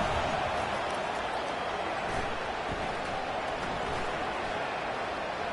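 A large stadium crowd at an Ole Miss college football game roars in a steady, dense wash of cheering and noise, continuous and fairly loud throughout, with no distinct voices standing out.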